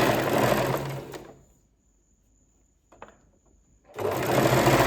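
A sewing machine stitches a folded piece of kurti fabric with a steady, close whir that runs for about a second, falls silent with a faint handling sound, then starts again.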